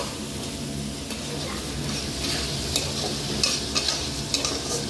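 Masala being stirred into chicken in a pan for Bengali chicken bahari, a steady close sizzle and frying hiss with scraping stirs and a few sharper clinks of the utensil, no talk.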